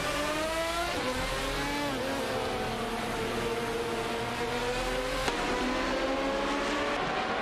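Saleen S7R and Koenigsegg CCGT race cars in a racing video game, engines howling steadily as they run together, with pitch shifts on gear changes and no talk.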